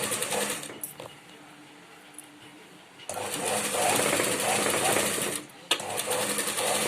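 A sewing machine runs in close, steady bursts as it stitches blouse lining, whirring continuously for a stretch, pausing briefly, then resuming, while someone talks under the mechanical hum.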